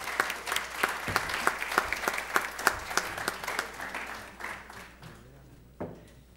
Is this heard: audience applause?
yes